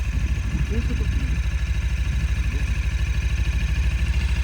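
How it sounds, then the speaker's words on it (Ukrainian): A new 2023 Suzuki V-Strom 250 motorcycle idles close by with a steady, even low throb, while people talk briefly over it near the start. "Приємно працює двигун."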